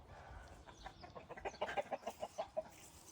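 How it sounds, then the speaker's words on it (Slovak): Hens on a farm cluck in a quick run of about ten short, evenly spaced calls, moderately close, over faint background noise. "jedla tu majú aj sliepočky dosť, ktoré sú mladé tam a tu boli dospelí"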